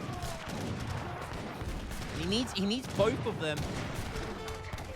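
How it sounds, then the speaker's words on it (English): Imperial heavy cannons fire in an Age of Empires battle, several deep, booming shots in quick succession over busy battle noise, with a voice talking over them. "Oh, Imperial cannon, the great equalizer."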